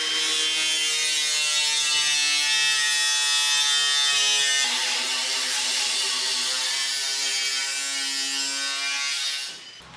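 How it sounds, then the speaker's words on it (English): An angle grinder cuts sheet metal for a custom bonnet on a 4x4, giving a steady, close, high-pitched whine that runs unbroken and drops away at the very end. "back to the grinder. I'm gonna get this cut up a little bit better"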